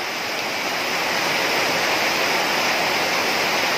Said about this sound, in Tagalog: Ayan po, napakalakas ng ulan.